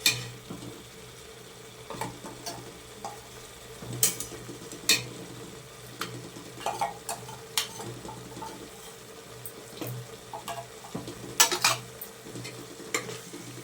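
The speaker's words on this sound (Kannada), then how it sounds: "ಅದಕ್ಕೆ 2 ಸ್ಪೂನ್ ಶುಂಠಿ ಬೆಳ್ಳುಳ್ಳಿ ಪೇಸ್ಟ್ ಹಾಕ್ತಾ ಇದ್ದೀನಿ" Ginger garlic paste sizzles in hot oil for egg biryani while a spoon stirs and scrapes the pan, giving a steady frying hiss broken by sharp clinks of metal against the vessel; no one speaks.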